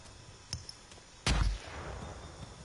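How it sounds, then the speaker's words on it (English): A flashbang grenade goes off in Predator: Hunting Grounds as one loud, close, sudden blast, followed by a fading ringing wash, after a stretch of quiet with a few faint clicks. "Tossing flashbang."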